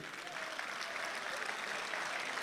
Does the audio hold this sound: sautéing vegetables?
no